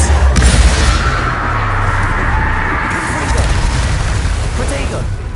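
A fire spell cast in a Harry Potter video game bursts out with a loud, booming whoosh, followed by a sustained roaring flame and crackle lasting several seconds.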